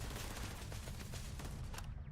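Turrets in the video game Starfield fire in a rapid, dense fusillade of overlapping shots that rattle continuously at close range for about two seconds, then cut off abruptly.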